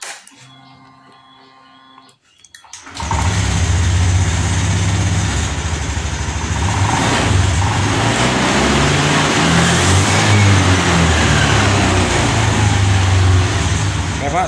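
A 2021 Honda Scoopy scooter engine starts after a second of quiet and settles into a steady, close idle that runs on, with faint talk in the background.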